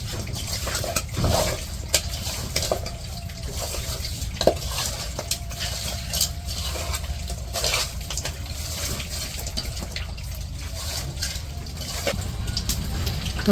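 Hands knead pieces of pangas fish with turmeric, chili powder and salt, producing soft, wet squelching and slapping in an irregular rhythm, close and moderately loud over faint background noise.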